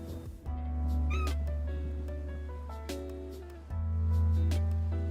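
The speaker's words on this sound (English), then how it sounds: "What are you doing, cat?" A house cat meows loudly and close by, giving two drawn-out cries that rise and fall, with a brief break between them and no talk over them.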